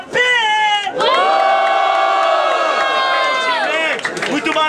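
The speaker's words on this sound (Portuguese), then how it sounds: "Barulhos, barulhos pra quem gostou das rimas do JP!" A crowd at a student rap battle in Guarulhos, São Paulo, roars and shouts in long sustained, strained yells. The noise is loud and close, briefly dips, then swells again before breaking into scattered cries.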